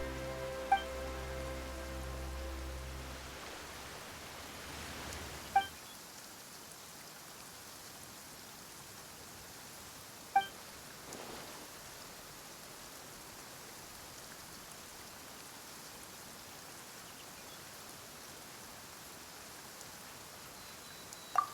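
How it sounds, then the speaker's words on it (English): Steady rain hisses evenly throughout in the video game Genshin Impact, with a few sharp clicks cutting through; a low musical tone fades out early on. "Why is it raining all of a sudden?"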